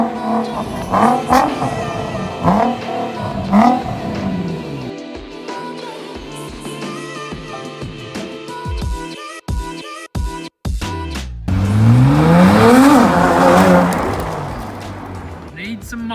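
Nissan GT-R engine revving repeatedly as the car is driven in, loud and close with rising and falling pitch, a brief cut partway through, then a sustained louder rev, with people talking over it.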